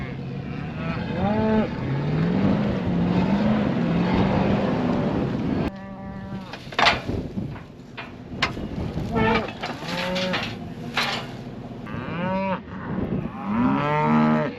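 Cattle on a farm moo repeatedly and loudly at close range, long drawn calls overlapping one another, with an engine rumbling underneath.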